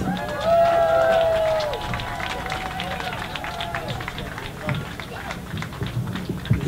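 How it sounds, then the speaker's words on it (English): At an anti-war rally in Herald Square, a crowd applauds in a dense, sustained patter of clapping mixed with shouts and cheers, loudest at the start and continuing steadily. "everybody should give a round of applause to Julian Assange"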